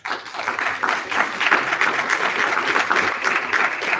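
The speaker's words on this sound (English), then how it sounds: "Please give a round of applause again for our Professor Wei, please." Conference audience at a Paris tech event applauding between talks; a full, even round of clapping that swells slightly and carries on for about four seconds without a break.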